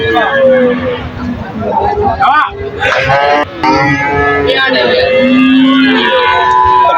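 Cattle moo loudly and repeatedly at a busy livestock market, long drawn-out calls close by over a background of crowd chatter.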